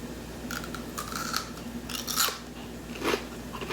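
Crisp crunches from biting and chewing a raw red bell pepper, several short bursts close to the mic over a quiet background, no talking.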